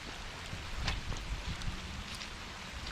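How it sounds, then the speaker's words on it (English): Steady rain falling outdoors in Texas, a broad even hiss with a few louder drop spatters, fairly close and constant throughout with no talking. "It's finally raining in Texas."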